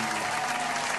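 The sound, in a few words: applause during children's church service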